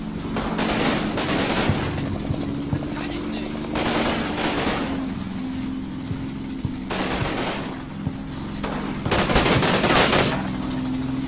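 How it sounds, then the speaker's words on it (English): Gunfire rattles through a Combat Mission World War II battle in the Road to Nijmegen campaign, with repeated loud bursts of machine-gun and rifle fire over a steady low rumble, while someone talks. "no, they're shooting back"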